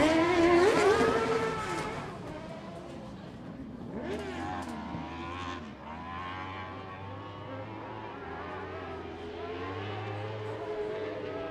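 Race cars circling the track during a season finale race day, engines whining and revving as they pass by, fading in and out with varying pitch under faint voices.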